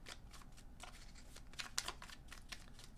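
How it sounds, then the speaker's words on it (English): Tarot cards being shuffled during a card reading, giving soft papery riffles and flutters spread across a few seconds, with a brief sharper burst of card snaps near the middle, all fairly faint. "Three shuffles."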